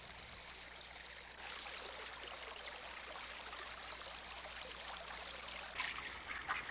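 Silver Bow Creek in Butte, Montana, once a channel for industrial wastewater, flowing steadily with a soft, continuous trickling rush that grows slightly fuller partway through, quiet and unbroken by voices.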